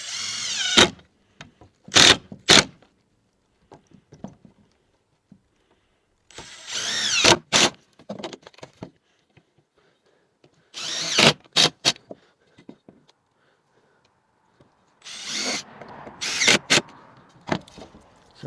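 A power drill drives screws into wood while building a homemade macebell, with repeated loud, short whirring bursts separated by quiet pauses.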